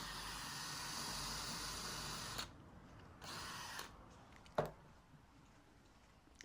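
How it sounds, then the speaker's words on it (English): Power drill boring a hole through wood, a continuous whirring bite for a couple of seconds, then a shorter second burst and a sharp knock, fairly faint overall. "And drilling the hole through."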